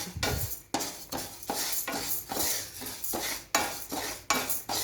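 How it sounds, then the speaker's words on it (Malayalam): Lentils are stirred in a dry pan, a spoon scraping in quick regular strokes over a grainy rattling hiss, close and fairly loud, no voices. "ഇതൊന്ന് ചെറിയൊരു ബ്രൗൺ കളർ ആവണം അതുവരെ ഇളക്കുക"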